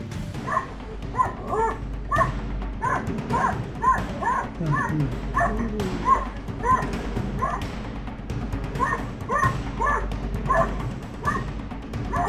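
A dog barks and yips rapidly during an animal fight, a steady run of sharp, close barks with whimpering mixed in, loud throughout over rough background noise.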